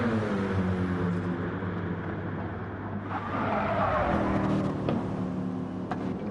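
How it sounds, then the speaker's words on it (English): A BMW race car in Gran Turismo 7 drives hard, with a loud, close engine drone, shifting revs and tire squeal as it corners, continuous throughout. "So Frowny getting used to the BMW's quirks as Waney makes his way around"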